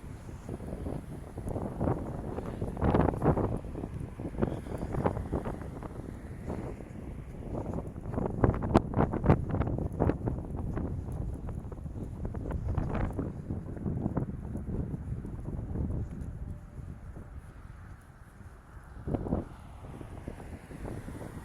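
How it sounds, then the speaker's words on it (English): Strong wind gusts buffet a camera microphone during an outdoor sunset walk on a cold, blustery day, producing loud, uneven low rumbling bursts that swell and fade throughout with no voices. "the camera keeps getting grabbed by the wind"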